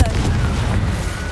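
A Confringo blasting spell detonates in the Hogwarts Legacy video game, a heavy, rumbling boom that holds loud and low across the whole moment with a voice mixed in.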